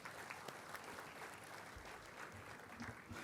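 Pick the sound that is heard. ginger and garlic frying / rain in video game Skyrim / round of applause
round of applause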